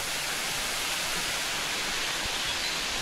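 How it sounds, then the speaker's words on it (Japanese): An artificial-looking waterfall at a tourist park in Ehime, Japan, gives a steady broadband rush of falling water, even and unbroken from start to finish. "滝もあるしね人工っぽいけど"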